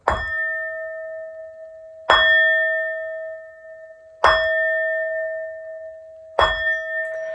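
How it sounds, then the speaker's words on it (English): Four struck bell tones ring out one after another at even intervals of about two seconds, each a clear metallic ding with a long sustained shimmer, alone in a quiet room. "These next 4 bell sounds are to align us and to bless this reading."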